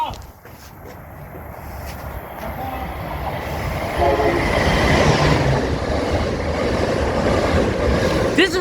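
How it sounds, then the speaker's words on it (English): A MARC or Amtrak train passes Halethorpe station close by, a loud broad roar that builds and holds steady with rumbling wheels, while people talk nearby. "This is the train where we're going to ride to New York."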